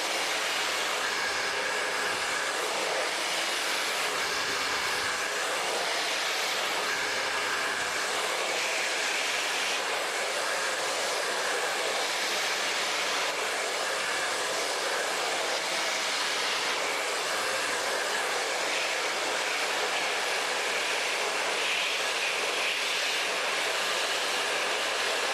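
A blow dryer is aimed at curly hair during a blow-dry styling, sending out a loud, steady, unbroken rush of air that holds close and even throughout.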